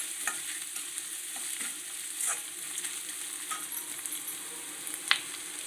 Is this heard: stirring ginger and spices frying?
yes